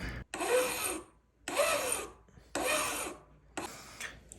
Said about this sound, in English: the next step here is to grind this down